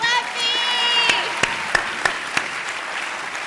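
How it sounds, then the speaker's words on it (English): Audience applause at a book celebration event, a crowd clapping and cheering briefly with a voice calling out over it, then the clapping thins into a few scattered individual claps. "How about an applause for Schleppy?"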